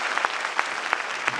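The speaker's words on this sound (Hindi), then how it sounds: "जोरदार ताली क्यों ना हो जाए फिर?" Applause at a church blessing meeting in Thane: a crowd claps steadily and briskly, a dense, even patter lasting the whole brief moment.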